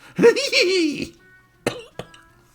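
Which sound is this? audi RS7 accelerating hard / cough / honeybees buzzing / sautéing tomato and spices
cough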